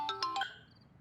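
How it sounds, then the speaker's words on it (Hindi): A mobile phone ringtone sounds for an incoming call, three quick bright chiming notes in a row, then a faint tone that fades away. "फरजाना बाजी का फोन है"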